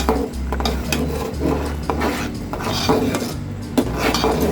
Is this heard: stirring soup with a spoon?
yes